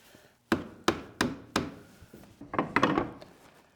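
Wooden shims are tapped loose while a prehung door is being hung, giving four sharp woody knocks in a row followed by a quick cluster of lighter taps and rubs, close and distinct.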